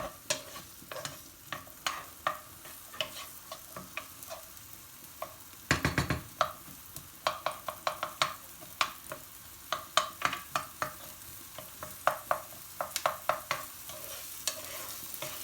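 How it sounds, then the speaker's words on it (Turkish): Onions sautéing in a pan until softened and pinkish, a steady close sizzle broken by frequent sharp scraping and stirring clicks from a utensil, with one louder clattering burst midway; no one talks. "soğanlarımızın bir miktar pembeleşme kıvamına gelene kadar kavurma işlemine devam ediyoruz"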